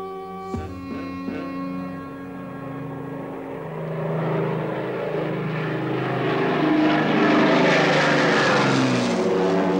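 Allied propeller aircraft fly over the Netherlands to drop food during a World War II ceasefire. A droning engine roar swells steadily louder and closer, ending in a loud, sustained overhead rumble.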